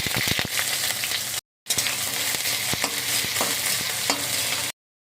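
Loud, dense sizzling of chopped garlic, five-spice, onion and green chillies frying in hot oil, broken by sharp clatters of stirring and a brief cut in the sound.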